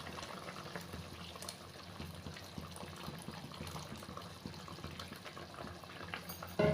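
A pot of egg and brinjal curry bubbles after tamarind water goes in, a steady low simmering hiss and burble with no talking over it, ending in a brief clatter.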